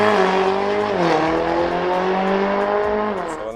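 A Mercedes A45S AMG with a stage 1 performance tune accelerates hard. The engine note is loud, close and continuous, rising in pitch and dropping briefly at two gear changes before climbing again.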